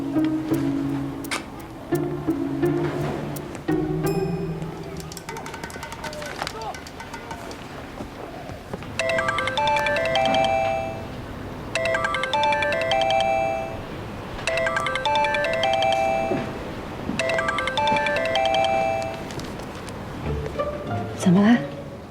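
Phone ringtone of an incoming call, a melodic electronic tune repeating in regular bursts for several cycles at moderate loudness, after brief talk between two people.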